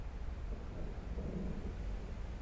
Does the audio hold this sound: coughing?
no